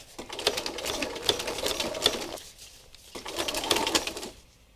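A sewing machine zigzag-stitches layers of fabric together in two steady runs of rapid mechanical whirring and clicking, separated by a short pause.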